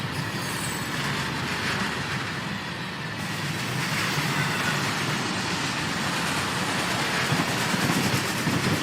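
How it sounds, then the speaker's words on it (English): Railway cars in a video game squeal and hiss continuously as wheels grind against the rail, a loud, steady metallic rumble with no voices. "The squeaking, the hissing, the sound of the wheels grinding against the rail."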